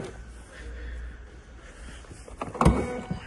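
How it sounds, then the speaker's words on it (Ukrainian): Electric tailgate on a 2008 Mercedes-Benz ML 320 diesel SUV, a low motor hum building to a brief mechanical clunk near the end, close by and faint overall. "Електрокришка багажника працює, є"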